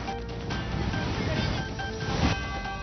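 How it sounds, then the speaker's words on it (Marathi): Terna dam overflowing after heavy rain, a steady broad rush of cascading water with a windy, surf-like roar, continuous and fairly loud throughout. "धाराशिवमध्ये मुसळधार पावसामुळे तेरणा डॅम ओव्हरफ्लो झालाय।"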